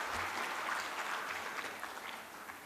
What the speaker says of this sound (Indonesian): Kita beri tepuk tangan untuk tim observer.